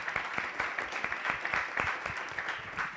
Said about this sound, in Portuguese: Podemos aplaudir, claro.